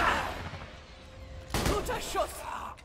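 A single sharp gunshot in the video game Borderlands 2 bursts out midway over a low background hum, followed by brief voice-like sounds.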